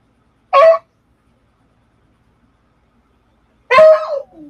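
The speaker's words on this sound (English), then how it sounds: "If the dog barking bothers you guys" A dog barks twice, about three seconds apart, each a short, sharp, close bark breaking an otherwise silent room.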